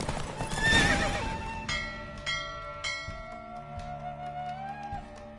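A horse in a race in The Witcher 3 video game lets out a loud, close whinny, followed by fading hoofbeats and ringing bell-like game music.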